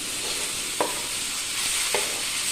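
Tomatoes, green chillies and onions fry in a pan with a continuous bright sizzle, broken by two short scrapes of a spoon stirring, close and loud with no talking.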